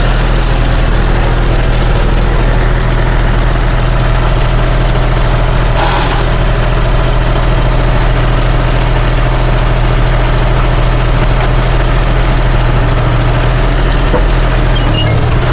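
A vehicle's engine runs continuously and loudly at close range while driving, a steady low rumble and vibration that stays even throughout.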